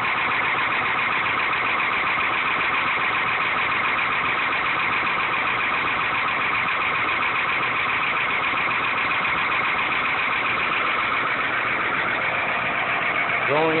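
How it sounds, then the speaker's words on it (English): A 1974 Ford 8000 truck with a Cat 1160 diesel engine idles with a steady, loud, rough clattering rumble that holds constant throughout, with no talk. "I was pretty impressed with how easy she started up."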